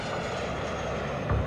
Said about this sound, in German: das kleine Flugzeug setzt sich in Bewegung